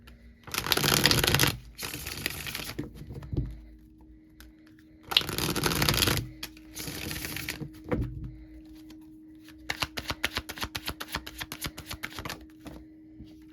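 Playing cards shuffled up close: two brisk bursts of shuffling, then a longer run of rapid, crisp riffling clicks with quiet pauses between.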